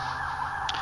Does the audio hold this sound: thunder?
no